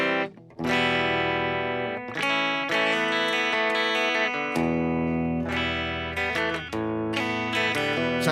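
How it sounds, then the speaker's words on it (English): An electric guitar plays a sustained, chiming chord sequence with notes ringing out one after another at a moderate volume, alone and without voices. "So this is what the guitar sounds like."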